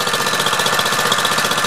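A Multiquip Mikasa MVH-206GH hydraulic plate tamper with its small engine running on choke, not yet warmed up: a loud, close, rapid mechanical chatter and steady buzzing drone without pause.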